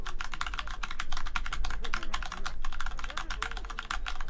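Rapid mechanical clicks from typing on a Corsair keyboard, a dense steady patter of close keystrokes over a low background hum, with a voice talking faintly underneath.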